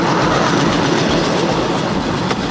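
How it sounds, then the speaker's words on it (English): A Cambodian bamboo train runs along a rail track, a loud, continuous rumble with rattling clatter from the wheels, heard up close. "So these are the bamboo trains."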